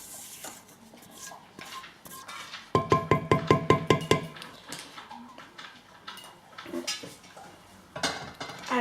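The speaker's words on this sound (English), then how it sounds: "I just want to give this one little stir." A spoon stirs homemade neem and oregano hair oil in a pot, giving a quick burst of rhythmic metallic clinks against the pot amid quieter scrapes and faint handling noise.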